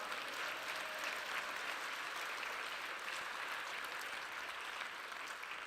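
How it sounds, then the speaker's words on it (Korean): Sustained applause from a church conference congregation, a dense, even wash of many hands clapping that holds steady throughout without a break. "박수를 올려주시면 좋겠습니다."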